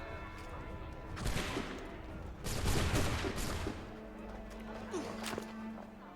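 Musket volleys in Assassin's Creed III, bursts of overlapping gunfire crackling at moderate distance in two main waves, with game ambience and faint voices in between.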